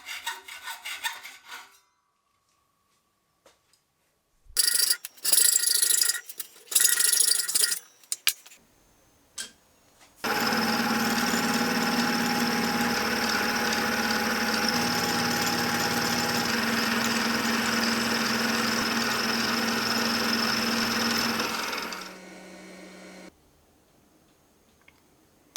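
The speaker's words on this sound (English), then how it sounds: "Again, it's all aluminium offcuts, so I'll first get them cut down and then cleaned up." Aluminium offcuts being cut down on a machine for hydraulic gear pump housings: a loud, steady grinding-rasp cutting run of about twelve seconds, preceded by short bursts of handling and clatter, then tapering off.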